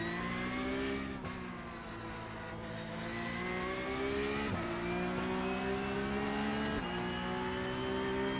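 Race cars in the iRacing sim bunch together on a messy opening lap, several engines whining and revving in layered tones that dip with each gear change, steady and loud throughout.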